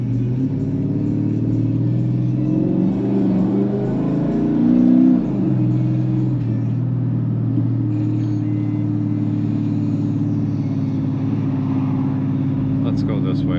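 A turbocharged Dodge Challenger SRT8 is being driven on a city street, with a steady, loud low engine rumble throughout and a brief surge of revving about five seconds in.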